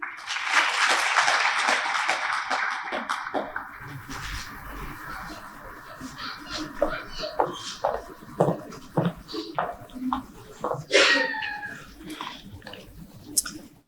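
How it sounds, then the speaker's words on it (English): A graduation ceremony audience in Zambia breaks into dense applause mixed with high ululating cries, then thins out into scattered, uneven claps and calls over the last several seconds. "A round of applause,"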